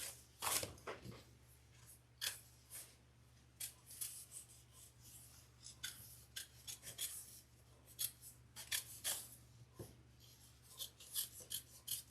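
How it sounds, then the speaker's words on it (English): Scissors snip and rasp through fabric while cutting out the center of a handbag pattern piece, a steady series of short, close, quiet cuts with no talking. "Now we'll cut out the center there."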